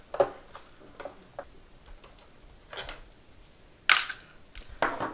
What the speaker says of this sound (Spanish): Si usáis un destornillador con imán, os ahorraréis bastantes molestias para quitar tornillos.